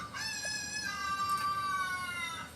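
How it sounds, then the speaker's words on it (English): A rooster crows in one long drawn-out call, moderately distant, with no talking over it. "There you heard the rooster crowing."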